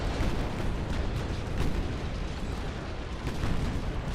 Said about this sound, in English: Did you guys see the amount of damage I just took from that one torpedo?